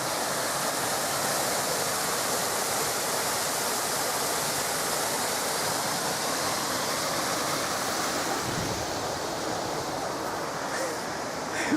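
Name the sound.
river water flowing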